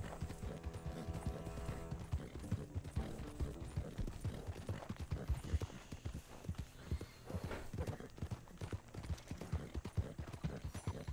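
A black horse's hooves clip-clop in a steady, close rhythm as it is ridden in a video game, with game music playing underneath throughout.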